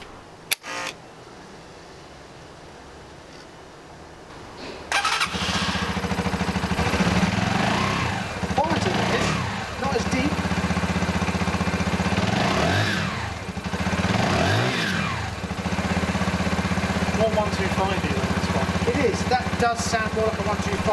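A brand-new 2017 125cc naked sports motorcycle starts up after a quiet moment and settles into a steady, close idle with small blips of throttle, heard alone for most of the stretch.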